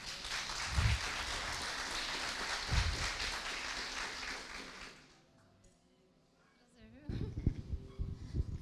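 Congregation in a church clapping, a steady, fairly loud applause lasting about five seconds before fading into near quiet, followed by a voice and louder sounds at the end.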